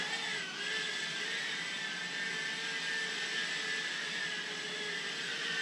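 A BWHOOP B-03 toy drone in flight, a steady high-pitched whine of tiny propellers, close and continuous with no talking.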